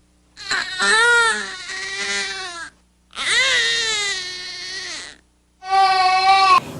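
An infant cries in three long, strained wails separated by short pauses, a pained, effortful cry as if straining to go to the toilet, loud and close with no other sounds.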